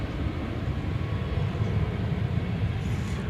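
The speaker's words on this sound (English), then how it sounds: "American Flight 806 to Santa Ana, California is headed out. It's a 737-800." An American Airlines Boeing 737-800 departing DFW produces a steady, rumbling jet roar heard at a distance, continuous and even for the whole stretch.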